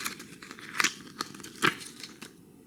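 A paper sleeve for a Duran Duran Paper Gods CD is handled close up, giving a few short crinkling, rustling bursts with quiet gaps between them.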